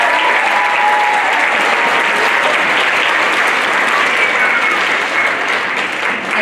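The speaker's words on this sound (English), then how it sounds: "Can we please have a round of applause for all of you?" Dense, sustained audience applause filling a school auditorium at a winter instrumental concert, loud and even throughout with no break, only easing slightly toward the end.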